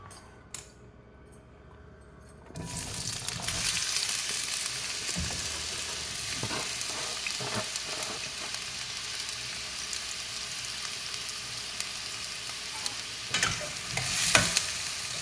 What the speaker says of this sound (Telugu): నూనె కాగిందండి టమాటా ముక్కలు వేసుకున్నాము